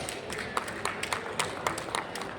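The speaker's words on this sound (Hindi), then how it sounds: "माननीय मंत्री महोदय, आपके लिए जोरदार तालियां होनी चाहिए।" An audience applauds the state industry minister at the opening of a mega trade fair in Jharkhand, giving a steady wash of rhythmic clapping at moderate volume with no clear voices.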